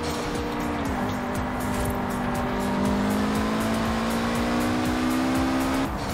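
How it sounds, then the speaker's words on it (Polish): A Mitsubishi in the Forza Horizon 4 racing game, engine droning steadily with a long tonal whine from the turbo compressor as it winds down, loud and close with no voices. "Tutaj bardzo fajnie słychać sprężarkę, jak schodzi z obrotów."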